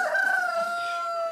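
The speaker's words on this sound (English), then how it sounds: "he had chickens laying in the trees" A rooster crowing in a rural setting where chickens roost in tree branches, one long drawn-out call heard clearly and alone, fairly close, with no talk.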